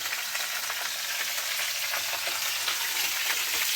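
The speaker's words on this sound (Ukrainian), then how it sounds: "Сковорідка шкварчить." Steady, close sizzling and crackling of fresh meat frying in a hot pan, a dense continuous hiss with no voices.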